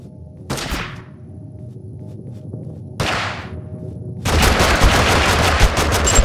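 Gunfire in the battle royale video game Totally Accurate Battlegrounds: two sharp single shots about two seconds apart, followed by a loud sustained burst of rapid automatic fire, all near and without talk.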